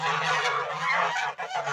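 A continuous, loud chorus of honking geese close by, with only a momentary dip partway through.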